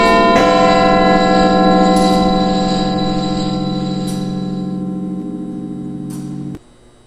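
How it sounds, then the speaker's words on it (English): Big Ben's quarter-hour chime rings inside a Roblox game, bright bell tones layered in sustained harmonic strikes at a steady pace, loud and close, ringing alone before cutting off abruptly near the end. "What you will soon hear is the chiming train chiming the quarter past the hour."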